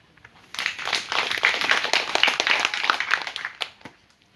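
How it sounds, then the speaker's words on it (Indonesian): An audience at a community outreach session on child social savings aid claps together, a dense burst of applause that swells quickly, holds steady for about three seconds, then fades out. "Tepuk tangan."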